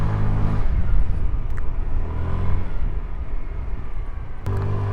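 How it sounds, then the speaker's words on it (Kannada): A Hero Xoom 125cc air-cooled scooter hums along under throttle, a continuous close engine drone with a brief lift near the start and end, no voices over it. "ಇಂಜಿನ್ ಅಂತೂ ಸಖತ್ ಸ್ಮೂತ್ ಆ್ಯಂಡ್ ರಿಫೈನ್ಡ್ ಆಗಿದೆ."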